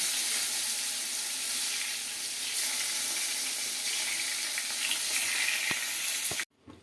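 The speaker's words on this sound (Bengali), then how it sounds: "সুন্দর করে ভাজবো বেগুনটাকে, সুন্দর গোটা গোটা ভাজবো রাখবো।" Eggplant pieces fry in hot oil in a home kitchen, a steady, dense sizzle that runs close and loud for several seconds before cutting off abruptly.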